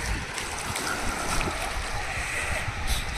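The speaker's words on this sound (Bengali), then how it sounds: "আছে স্পিড বোট" Steady roar of wind and surf at a beach on the sea at Mandarmani, with a broad washing noise that could hold a distant speed boat motor, continuous and fairly loud throughout.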